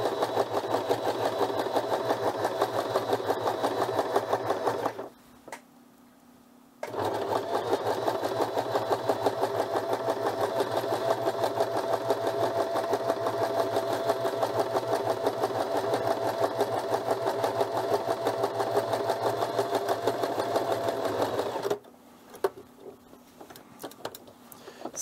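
Sewing machine stitching a sleeve seam for a handmade animatronic Grogu prop, running steadily close by with a busy mechanical hum, pausing briefly once before resuming and stopping near the end.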